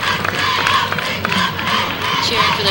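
A loud crowd cheers and yells for their sorority at a 2000 homecoming parade at Cal U, a dense, continuous roar of voices close by with scattered shouts.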